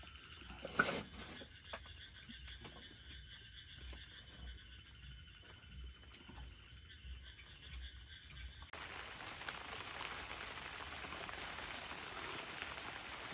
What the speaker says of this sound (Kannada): ನೋಡಿ, ಕೇಳಿಸ್ಕೊತಾ ಇದ್ದೀರಲ್ಲ, ಇನ್ನೂ ಮಳೆ ಬರ್ತಾನೆ ಇದೆ.